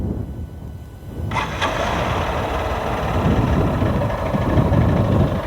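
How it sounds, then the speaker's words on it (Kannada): A 2024 Honda SP 160 motorcycle starts with a short crank and catches, then settles into a close, steady idle with a low, throbbing exhaust note. "ನಿಮಗೆ ಗಾಡಿದೊಂದು ಎಕ್ಸಾಸ್ಟ್ ನೋಟ್ ಕೇಳಿಸ್ತೇನೆ"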